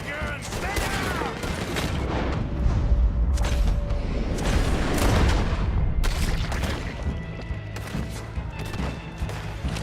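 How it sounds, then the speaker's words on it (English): Rapid bursts of Gatling gun fire boom through a Red Dead Redemption 2 gunfight, loud and close, with dense volleys, scattered shots and heavy impacts over about ten seconds while a voice briefly speaks. "They got a Gatling gun!"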